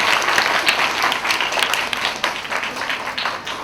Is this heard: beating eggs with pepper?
no